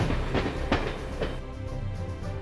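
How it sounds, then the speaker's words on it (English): Passenger train of Doodlebug railcar, a sleeper and a coach passing through Fort Meade, Florida; steady loud rolling rumble with a few clattering wheel knocks, fairly close, no voices. "Train 97 passes Fort Meade, Florida, with its normal consist of famous Doodlebug, a sleeper, and a coach."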